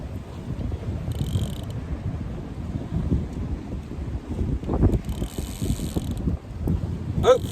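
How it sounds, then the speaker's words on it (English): Strong coastal wind on the Torquay shore buffeting a microphone, a loud continuous low rumble that swells in gusts, with brief faint mechanical clicking now and then. "there's a lot of wind here"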